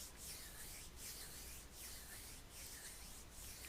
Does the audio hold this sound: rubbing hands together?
yes